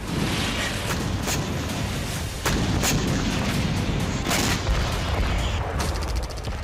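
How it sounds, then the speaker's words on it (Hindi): Israeli air strikes pound a Hezbollah weapons depot in Kafr Kila, southern Lebanon, with a dense roar of loud, rumbling blasts and several sharp, sudden booms cracking through continuously. "इजरायली एयरफोर्स ने बमबारी कर कफ्र किला में हिजबुल्लाह के हथियार गोदाम को तबाह कर दिया"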